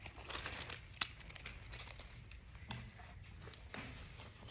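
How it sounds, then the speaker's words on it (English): Craft pieces being peeled off a backing board with tweezers make close, quiet crinkling and soft tearing sounds with occasional small ticks, faint and continuous. "use my tweezers to peel everything up again"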